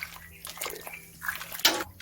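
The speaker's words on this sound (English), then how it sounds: "best way to cool it down is to get my spoon in there and just stir it around like this." A spoon stirs hot homebrew wort in a pan, with soft irregular liquid swishes and sloshes, a brighter splash near the end, fairly quiet and close.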